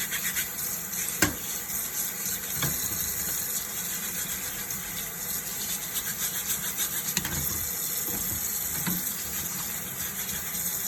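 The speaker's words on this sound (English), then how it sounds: "Get your brush and just scrub them clean" Barber combs scrubbed clean with a brush under running water at a sink, a steady wet hiss and splashing with a few faint knocks, fairly quiet throughout.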